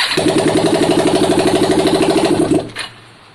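A broken Kawasaki ER5 motorcycle with its choke on cranks on the starter button in a fast, rhythmic churn for about two and a half seconds. It fails to catch, then stops with a brief clunk and falls quiet.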